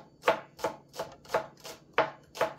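Knife chopping green onion whites on a cutting board, six crisp evenly spaced strokes, close and clear with nothing else heard.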